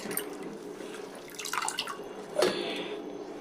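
Water drips and splashes as a cooking vessel is rinsed, with a short trickle and a brief louder splash near the end, close and without talk.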